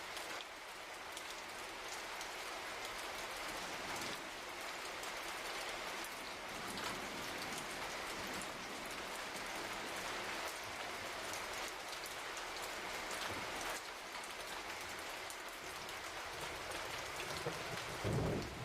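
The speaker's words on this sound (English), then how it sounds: "The sound of rain can be soothing" Steady rain falls in a continuous dense hiss, with distant rolls of thunder rumbling now and then beneath it.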